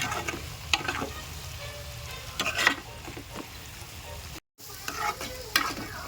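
A spoon stirs okra in a tamarind curry with chili powder in a hot pan, giving steady close sizzling with repeated scraping strokes and one very brief dropout.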